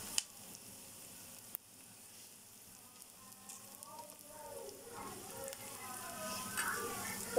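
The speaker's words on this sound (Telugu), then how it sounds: "ఫ్రై చేసుకోవాలండి." Egg fried rice cooking in a pan with turmeric, salt, cumin and coriander powder, a steady low sizzle with occasional stirring clinks, fairly quiet and unbroken by talk.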